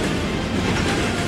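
Animated train crossing a bridge, a dense continuous rumbling roar with steady rolling noise, loud and close, no voices.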